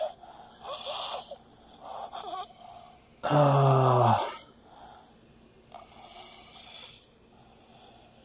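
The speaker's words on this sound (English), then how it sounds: "Quit breathing." A ghost's heavy, rasping breath in the horror game P.T. swells suddenly and loudly for about a second, set between a player's muttered, strained remarks and quieter breathy sounds.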